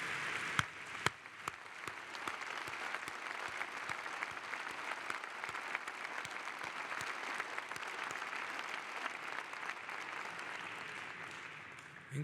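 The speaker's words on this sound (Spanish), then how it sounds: "Un aplauso" Sustained applause from a large crowd at a government report address in Mexico, dense steady clapping that continues evenly for about twelve seconds with no voices.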